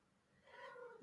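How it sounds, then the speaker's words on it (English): A cat lets out a single short meow, fairly close and clear in an otherwise quiet room, followed by a brief low thump at the end. "That's my cat."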